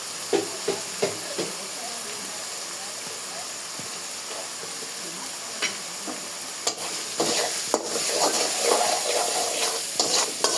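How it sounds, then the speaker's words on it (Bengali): Spice paste with turmeric and salt is stirred and fried in a pan, giving a steady sizzle with repeated spoon scrapes and knocks, some sharper clatters toward the end. "ভালোভাবে নাড়াচাড়া করে কষিয়ে নিয়ে"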